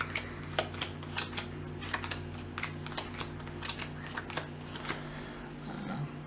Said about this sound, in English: So now we would deal 3 cards out to each player.